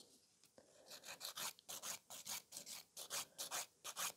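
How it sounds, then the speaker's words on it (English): A nail file rasps back and forth across a top-coated gel nail in about fifteen quick, rhythmic scratching strokes, close and quiet, with no talking. "I'm just going to give it a couple scratches with the file"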